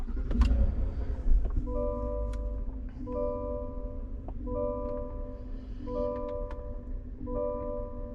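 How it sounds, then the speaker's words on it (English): A Chevy Silverado LT Trail Boss pickup powering up, with a short engine crank near the start followed by a steady idle hum and repeating electronic chime tones from the cab, fairly close and with no talking. "Let me turn the truck on."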